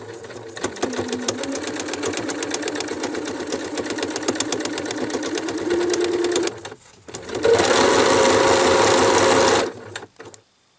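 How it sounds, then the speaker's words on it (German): A sewing machine runs steadily while stitching fabric for a homemade bread basket, a continuous mechanical whir that pauses briefly, then resumes louder before stopping. "Gegebenenfalls lieber ein bisschen langsamer nähen"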